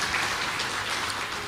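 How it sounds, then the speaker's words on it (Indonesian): Church congregation applauding during a sermon, a dense, steady wash of clapping filling the whole stretch without any talk over it. "Kasih tepuk tangan yang meriah untuk Tuhan Yesus."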